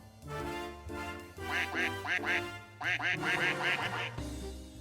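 A duck-call alert sound effect plays on a livestream, bursts of loud nasal quacks in two rapid clusters over a steady background of music or ambience, with no talking.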